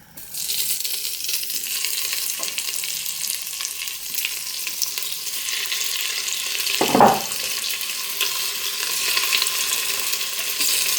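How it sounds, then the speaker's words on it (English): Beef sautés in a Cosori pressure cooker pan with a continuous, close hissing sizzle, interrupted once by a brief knock of a utensil partway through. "Can you hear that sizzling guys?"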